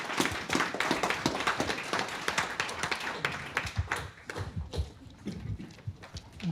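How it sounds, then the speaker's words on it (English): Audience at a conference session on island futures claps after a talk, a dense spread of hand claps rising and thinning over several seconds, fairly close and moderately loud with no speech over it. "Round of applause."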